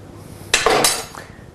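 A metal frying pan clanks and clinks against utensils in a short burst, two quick knocks followed by a faint trailing scrape, close by, as olive oil is added.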